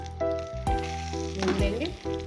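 Watermelon seeds, melon seeds and raisins roasting in a pan give a soft, continuous sizzle beneath a voice talking throughout the short stretch.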